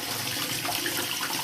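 Tap water runs into a bath while a bubble bar is tested, a steady close splashing gush with no pauses and no talk.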